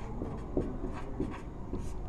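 A pen scratches across paper close up during a maths lesson, with quiet irregular strokes and taps at a soft, even level.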